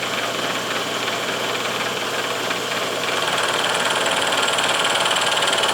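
A milling machine running a 1¼ inch two-flute end mill at about 1,000 RPM, squaring up a block for a flatbottom boat repair, makes a steady loud mechanical drone with gritty cutting noise that grows slightly partway through.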